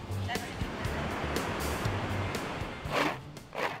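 Small ocean waves wash in at Noosa beach with a steady rushing surf hiss, a couple of louder splashes near the end, and a voice talking over it.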